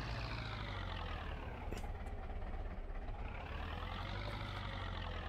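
A truck towing a trailer manoeuvres on a Lincolnshire farm, its engine a steady, close, low diesel drone with a constant rumble and no pauses throughout.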